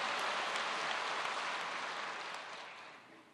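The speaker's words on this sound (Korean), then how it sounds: "하나님께 영광과 감사의 박수" Applause from a church congregation fills the space, steady broadband clapping from many hands that holds loud and then slowly tapers off toward the end.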